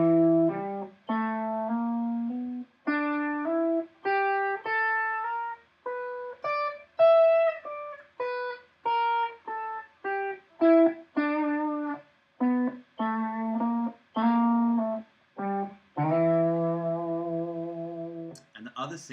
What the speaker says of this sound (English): E blues scale, so just adding in that sharp 4 note